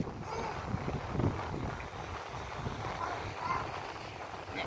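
Strong wind buffeting a microphone outdoors by a parking and viewing area in Italy, a steady low rushing roar with gusty swells throughout and no clear voices.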